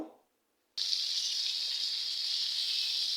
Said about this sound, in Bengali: এখানে আমি মাছ ভাজতে দিলাম।